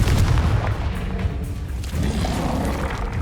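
Confringo explosion spell cast in Hogwarts Legacy, a loud booming blast with a heavy low rumble that fills the whole moment and rolls on steadily without any voices.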